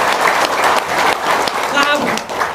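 Loud, close audience applause at an Islamic motivational talk, a dense burst of clapping with a speaking voice over it.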